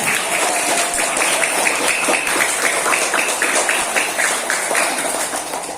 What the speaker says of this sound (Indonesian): Tepuk tangan untuk Nabi Muhammad